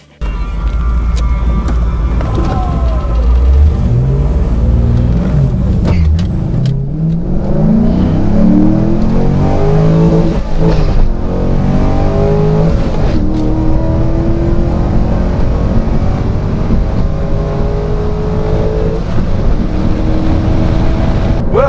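A Corvette launches and accelerates hard down a drag strip during midnight drags, its loud engine roaring close by and climbing in pitch through several gear shifts, then holding a sustained high-revving drone.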